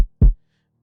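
One short, punchy kick drum sample from a drum kit library, a single deep thump heard alone and close, with no talking.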